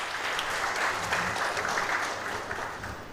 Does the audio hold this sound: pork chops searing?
no